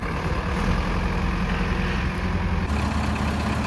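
A tractor engine runs steadily on a farm while pulling free from logs, a loud, continuous low rumble that shifts in tone near the end.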